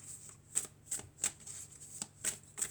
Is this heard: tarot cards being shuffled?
yes